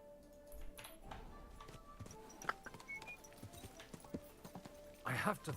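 Horse hooves clip-clop in the medieval game Kingdom Come: Deliverance, faint scattered steps under a quiet background, with a louder burst near the end.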